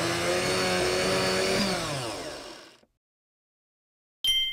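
A blender whirs loudly as it blends pineapple pieces into a smoothie in a kids' counting game, then winds down and cuts out into silence before a short bright sound at the end.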